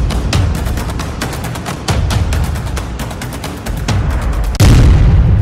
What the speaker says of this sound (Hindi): ताबड़तोड़ फायरिंग से थर्राई दिल्ली।